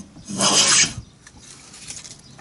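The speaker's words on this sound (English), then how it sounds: "And I've been planing away." A hand plane shaves wood for a Sopwith Camel wing spar, a single close rasping stroke lasting about half a second before fading to quiet scuffs.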